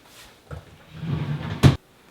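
A drawer of a baby diaper changing table being opened, a short wooden slide and rumble ending in a brief sharp knock as it stops, close and alone.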